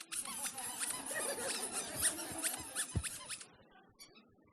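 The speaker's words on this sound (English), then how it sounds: "Everybody take your squeaker." An audience at a presentation squeezes rubber toy squeakers all at once, a dense, shrill chorus of overlapping squeaks that goes on for a few seconds and then trails off into scattered late ones.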